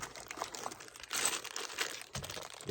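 A plastic bag crinkles up close in short, crisp bursts of rustling, handled for a few seconds.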